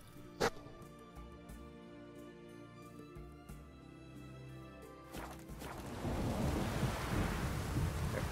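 Rain pours steadily in The Witcher 3 while a sharp thunder crack sounds early, then the downpour swells louder and denser toward the end.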